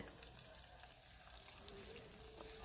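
Finely chopped onion sizzles in hot tempering oil over a low flame for a North Karnataka puttani chutney, a faint, steady frying hiss with no talking.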